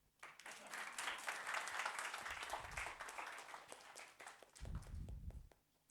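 Audience clapping at a workshop session in Nagpur, a sustained burst of applause that holds steady, dips briefly, then rises again before trailing off.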